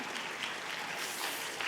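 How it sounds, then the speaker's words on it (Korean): Church congregation applauding during a Sunday service, a dense steady patter of many hands clapping together in a large room, continuous and fairly loud. "아니 예배 시간에 박수를 쳐주시네요"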